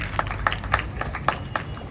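Audience at an English-language speaking club clapping, with about seven sharp, fairly regular claps in a thin, light rhythm over faint room noise.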